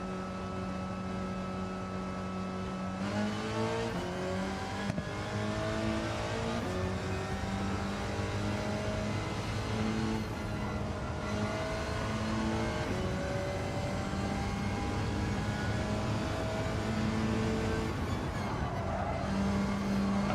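A Hyundai Elantra with a seven-gear transmission races in Gran Turismo 7, its engine note climbing in repeated rising sweeps that drop back at each gear shift. The note stays steady, close and continuous throughout, with no talking.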